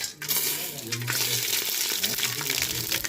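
Remaining ingredients tipped into a hot pan already holding ginger-garlic paste set off a loud crackling sizzle, with clinks and scraping of a utensil as everything is stirred together.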